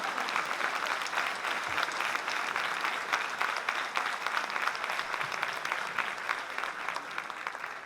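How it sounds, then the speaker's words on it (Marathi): A crowd at a book launch event claps in a loud, dense, sustained round of applause that carries on evenly for several seconds without a break. "जोरदार टाळी पडते पार्लेकरांची."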